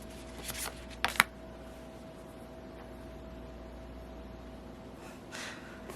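Tarot cards handled and drawn from a deck, a couple of quick close shuffling riffles early, then near quiet with a soft card rustle toward the end.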